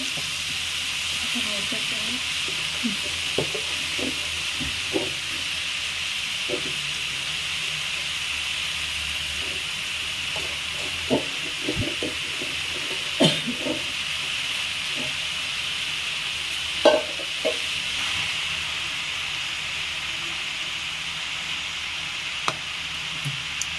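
Mixed leafy greens sizzle in hot tempering oil with a steady, even hiss, broken by occasional soft clinks and stirring clatter throughout.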